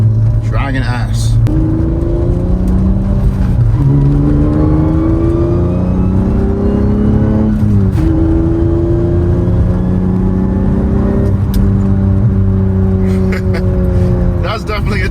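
Acura TL Type-S with straight cut gears accelerating hard through several gears, with a loud, close engine roar that climbs in pitch, drops at each shift and climbs again, and a whining gear note running throughout.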